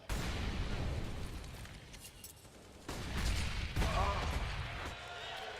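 Grenades explode in the CS:GO Inferno map toward the tree during a FaZe match, a dense, loud rumble of blasts and bursts that lasts throughout with commentators talking over it.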